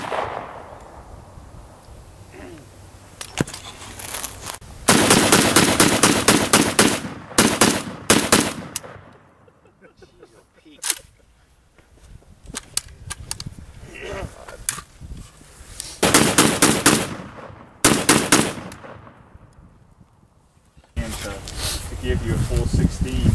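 Gunfire at a shooting range during a shootout competition: bursts of rapid, loud shots come in several clusters separated by quieter gaps, with a few single reports in between.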